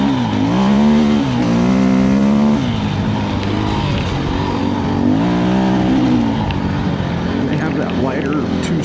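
A 2024 KTM 350 EXC-F dirt bike rides through deep desert sand, its single-cylinder four-stroke engine revving and bogging in loud, rising and falling pulls close by, with wind and ground noise throughout.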